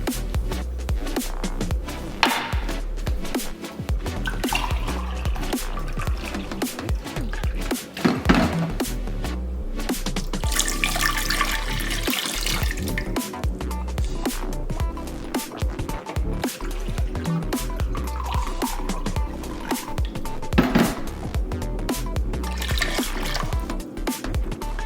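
Water runs and splashes as rice for sushi is scrubbed and rinsed under a tap, a continuous close trickling and sloshing with squishy rubbing sounds and occasional louder splashes, no talking.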